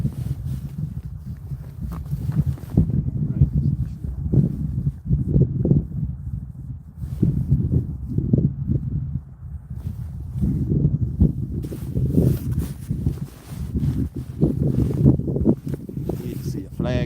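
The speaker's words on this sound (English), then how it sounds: "It's wind and snow." Steady wind gusting across a snowy frozen lake at an ice fishing spot in Maine, a constant broad rush with swelling and fading buffets against the microphone, without a break for the whole stretch.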